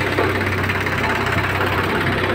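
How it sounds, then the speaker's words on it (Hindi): A tractor water tanker sits idling during road work, its engine giving a steady low rumble and chug that stays close and even throughout, with no voices. "ट्रैक्टर वाटर टैंकर है, ये पानी डलवा रहा हूँ बेड पे।"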